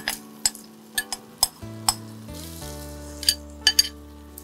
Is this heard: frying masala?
yes